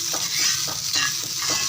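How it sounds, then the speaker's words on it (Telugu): Sliced onion pieces frying in about a spoon and a half of hot oil for fish pulusu, a loud, close sizzle broken by rhythmic scraping strokes of a stirring spoon. "తర్వాత ఒక స్పూనున్నర ఆయిల్ వేసి కట్ చేసి పెట్టుకున్న చీరికలా కట్ చేసి పెట్టుకున్న ఉల్లిపాయ ముక్కలు కూడా వేసుకుంటున్నానండి నేను"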